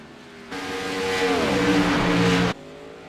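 A Chevy SS race car in a racing video game roars past at Chicagoland, its engine note rising in pitch and then dropping steadily, loud and sustained for about two seconds before cutting off sharply, with no talk over it.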